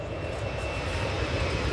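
An airplane roars past at an airport, a loud steady engine drone with a rumbling low end, sustained and close throughout.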